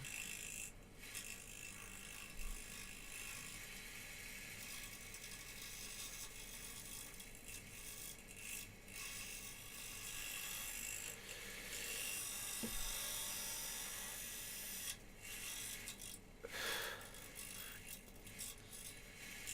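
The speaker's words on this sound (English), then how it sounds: "I have to say this resin did not like being turned with the bowl gouge." A bowl gouge cuts a spinning resin bowl on a wood lathe, producing a steady whirring drone with rough chattering and scraping as the resin chips, interrupted by brief breaks and a few sharp ticks.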